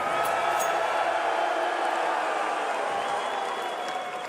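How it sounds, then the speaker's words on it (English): Spectators in the arena at the IEM Dallas 2025 esports grand final between Vitality and MOUZ let out a steady loud roar of mixed cheering, clapping and booing, easing off slightly toward the end. "There's an equal number of cheers and boos both ways"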